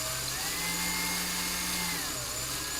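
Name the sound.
drilling a blaster part with a domestic drill bit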